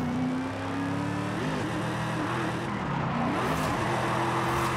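A car drifting at full speed in Forza Horizon 5 on drift tyres: a steady, loud engine roar held near redline, the pitch dipping and climbing again with gear changes and a clutch kick, with no talking.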